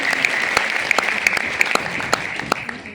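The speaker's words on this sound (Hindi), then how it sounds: "जोरदार जबरदस्त तालियां हो जाए" Audience applause at a stage event, a dense steady clapping from a crowd with a few sharper individual claps standing out, continuous through the moment with almost no talk.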